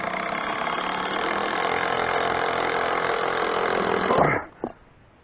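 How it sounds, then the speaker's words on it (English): A power tool drives screws during a house remodel, giving a steady loud motor whine for about four seconds before stopping abruptly, followed by a brief clunk. "I'm just going to tighten up these last 2 screws right here."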